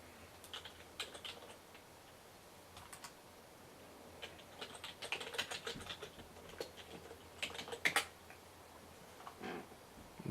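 A command is typed on a computer keyboard as a quiet, close series of key clicks in irregular bursts, growing busier toward the end with a few sharper strokes.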